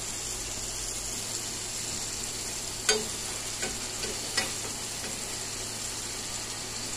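A spice paste mixed with water sizzles steadily in a pan for a paneer kofta curry gravy, with a few sharp stirring clinks partway through. No talking.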